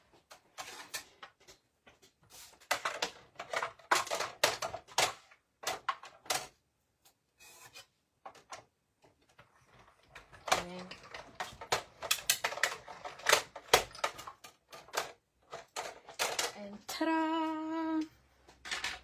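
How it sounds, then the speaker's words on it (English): A die cutting machine cuts through card stock up close, with bursts of rasping, rubbing and clicking that come in irregular runs, then a short squeaky tonal whine near the end. "let me do the die cutting"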